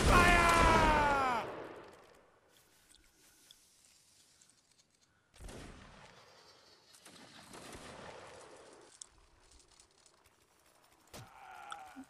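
A line infantry musket volley in the Mount and Blade video game opens with a loud, dense crackle of many shots that fades within a second or two. Quieter scattered battle noises and bleating-like cries follow.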